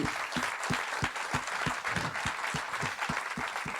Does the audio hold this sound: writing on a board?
no